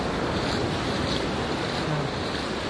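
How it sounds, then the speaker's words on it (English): Ocean waves breaking on a beach in the morning, a continuous roaring wash of surf mixed with wind noise on the microphone, steady and moderately loud. "Listen to the sound of the waves."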